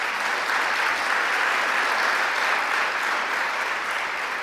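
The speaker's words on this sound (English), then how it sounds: "Let's give him a round of applause as well." Steady, dense applause from a large audience honoring Chancellor John King at a gubernatorial event on higher education, loud and continuous throughout with no speech over it.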